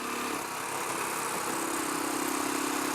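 A Royal Enfield Classic 500 motorcycle with its 500cc single-cylinder engine runs steadily while being ridden, giving a continuous loud, vibey drone with rough low-end pulsing and no pauses.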